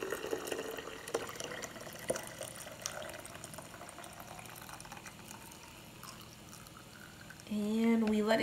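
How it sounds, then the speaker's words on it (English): Hot water is poured over a homemade tea blend, making a soft liquid trickle and splash while a person talks over it, with a louder burst of sound near the end. "And then you pour your hot water"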